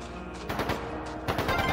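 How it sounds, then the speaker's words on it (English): Gunfire in the video game Trails of Cold Steel 2 arrives as two quick clusters of sharp rapid shots, each a short burst of cracks rather than a single report, with a brief lull between them. "Gunfire!"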